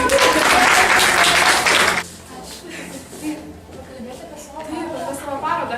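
Dense audience applause rings out loudly for about two seconds, then cuts off abruptly, leaving scattered voices and low crowd chatter behind.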